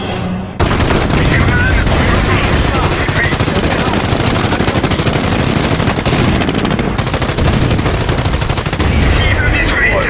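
Sustained heavy gunfire in an action film, automatic bursts and rapid shots pounding almost continuously for about ten seconds, loud and close, with faint voices mixed under the barrage.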